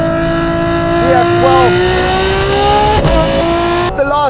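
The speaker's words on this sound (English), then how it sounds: "It's all about the noise in this car." A naturally aspirated Novitec Ferrari F12 with Novitec exhaust screams loudly and up close, its engine note climbing steadily through the revs and dipping at quick shifts; a voice is briefly heard underneath.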